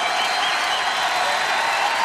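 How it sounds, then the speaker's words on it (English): A large stadium crowd at a drum corps world championship claps and cheers in a steady, dense roar of applause, loud and continuous throughout. "Listen to this crowd."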